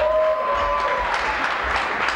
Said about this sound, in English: give a big round of applause to your reigning Miss Gay Missouri